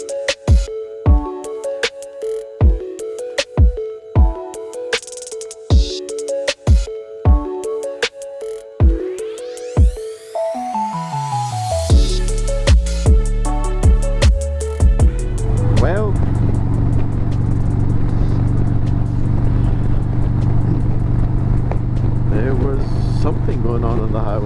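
Harley-Davidson Road Glide cruising the highway from Orlando to Atlanta: a musical intro of plucked tones gives way to a loud, steady roar of engine and wind rush that holds unbroken to the end.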